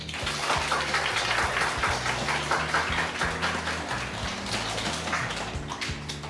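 An audience claps for a guest speaker, a dog-grooming instructor welcomed back to the academy where she trained. The applause is dense and steady throughout, with some low thumping and background clatter mixed in.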